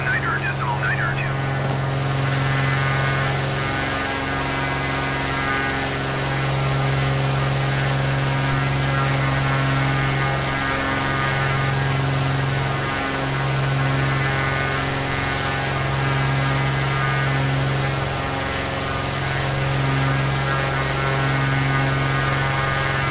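A Beechcraft propeller aircraft engine in Microsoft Flight Simulator drones steadily with a low, pulsing hum that rises and falls slightly over a long stretch, with no voices heard.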